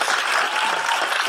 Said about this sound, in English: let's thank our presenters. Let's give them a round of applause.